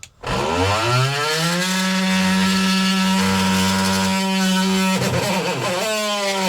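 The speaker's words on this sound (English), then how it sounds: "I'm gonna switch to the multi-tool just because it's not as thin and sharp as how a chisel would be" An oscillating multi-tool cutting during a DIY van bunk window installation, a loud, steady buzzing whine that runs almost continuously with slight pitch wobbles as the blade bites.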